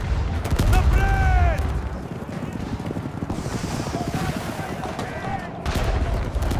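Battle sound effect of gunfire in a dramatized scene from the 1885 Serbo-Bulgarian War, with loud, dense crackling shots and clattering hooves up front, easing to a steady rumble of sustained fire, then swelling again near the end.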